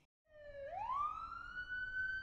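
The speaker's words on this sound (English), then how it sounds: "Police car." A police car siren rising from a low tone into a steady high wail, loud and close with no talk, set in a children's animated colours song.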